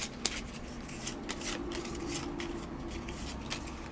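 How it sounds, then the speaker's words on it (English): A deck of cards shuffled during a solo board game session of Legacy of Yu, a faint, quick riffle of cards with light taps, close by and quiet with no talk. "And then I'll draw 1, 2. I'll shuffle."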